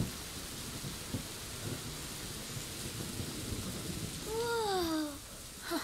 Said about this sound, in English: we're in the fucking rain right now